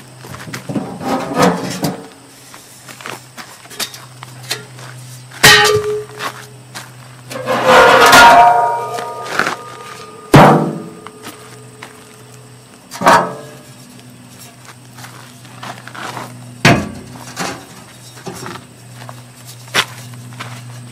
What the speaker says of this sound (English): Next thing I'm going to do is I'll pull the chimney apart and then get the barrel off of there